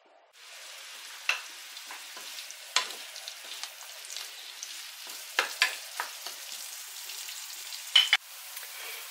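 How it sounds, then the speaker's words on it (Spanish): Chopped onion and leek frying in a pan with oil, a steady sizzle with scattered sharper crackles and stirring scrapes, close and without talk. "ahora lo vamos a poner a freír en una sartén con aceite"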